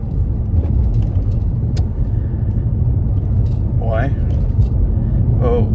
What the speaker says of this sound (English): I'm currently driving in Maraetai.